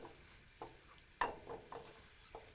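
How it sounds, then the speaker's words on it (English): Flour stirred into sautéed vegetables in a pan to coat them, a few soft scraping strokes at uneven intervals over a faint sizzle, close and quiet, with no talking. "I'm just going to evenly coat all of our vegetables here."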